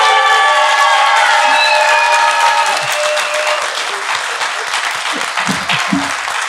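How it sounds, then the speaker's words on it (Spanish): A studio audience claps warmly and steadily for a guest on a Spanish-language talk show, loud and sustained, with a few faint voices beneath the clapping. "Le damos un aplauso con cariño a Santa Nilda"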